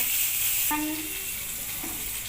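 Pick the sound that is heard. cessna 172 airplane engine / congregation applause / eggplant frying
eggplant frying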